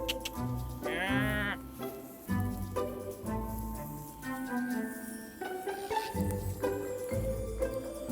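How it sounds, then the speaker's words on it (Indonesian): Merino sheep kept on an organic farm in a West Javan village bleat repeatedly, several loud, wavering calls close by over a steady background of farm noise. "Ini adalah domba merino yang kami pelihara"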